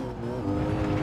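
Shelby GT350R in Gran Turismo 7 braking hard, a steady loud engine drone with tonal harmonics and a faint tire scrub carrying through the full second, no voices.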